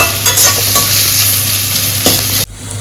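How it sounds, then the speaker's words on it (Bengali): Onion and green chili fry in a hot pan with a loud, continuous sizzle, broken by the scrape of stirring, before the sound suddenly drops away. "সবার আগে আমি পেঁয়াজটাকে আর লঙ্কাটাকে ভালো করে একটু ফ্রাই করে নেব।"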